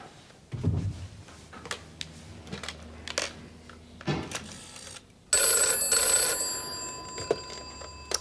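A telephone in a 1980 radio drama rings with a bright electric bell in the later part of the scene, loud and close after quieter clicks and handling noises, with no talking.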